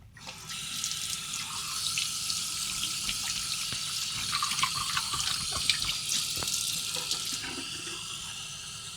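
A hotel-room tap runs cold drinking water continuously, splashing into a sink with a bright steady rush and occasional clinks, fairly close and without speech.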